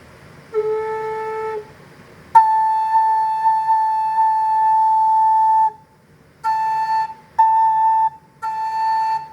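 A breathy wooden Native American drone flute sounds several sustained, pure notes, some with two tones blended in harmony, separated by short pauses.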